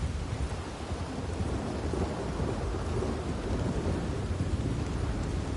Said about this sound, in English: Ooh, look at that rain.